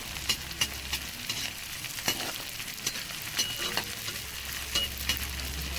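Edible gum (gond) fries in hot ghee with a busy crackling sizzle, punctuated by sharp pops and the scrape of a stirring spoon against the pan, close and steady throughout.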